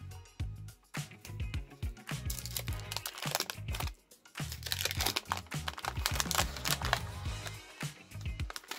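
Foil wax packs of 1991 Topps baseball cards being torn open and handled, with steady close crinkling and crunching of the wrappers, broken by short pauses and no talk.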